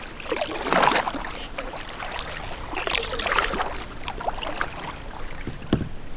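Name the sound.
kayak paddle strokes in water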